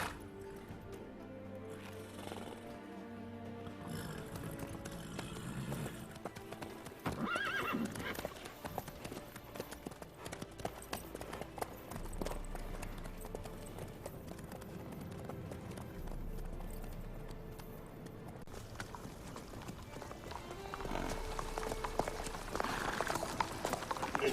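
Horse hooves clip-clop steadily through a Witcher video game scene, a brisk rhythmic trot under music, with occasional whinnies and a louder burst partway through.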